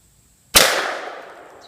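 A single loud gunshot from a loaded gun fired during home-defense practice, an abrupt sharp crack after a short silence that rings off in a long decaying tail.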